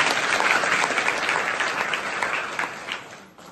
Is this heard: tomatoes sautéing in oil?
no